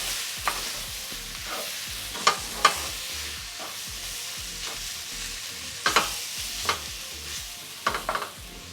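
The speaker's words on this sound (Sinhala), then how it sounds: "ඊට පස්සේ මේක ගින්දර පොඩ්ඩක් අඩු කරලා මේ විදිහට කලවම් කරගන්නවා." Samosa filling sizzles as it is stirred in a frying pan over lowered heat, with a steady fry hiss broken by repeated close scraping strokes of the spoon against the pan.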